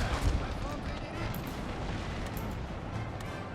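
Artillery cannon fire on a Napoleon: Total War battlefield, a muffled heavy boom at the start followed by a rumbling, distant din of battle with faint crackles, fairly quiet overall.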